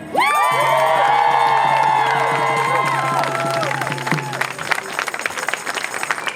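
A large outdoor protest crowd in San Diego cheers and applauds loudly, with many overlapping voices whooping and shouting at first, then settling into a steady wash of clapping and scattered cries.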